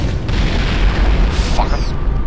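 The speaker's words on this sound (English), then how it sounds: "Nah, let's grenade him." A grenade explodes in the video game Turok 2, a loud, deep booming blast with a rumbling tail, game sounds layered around it.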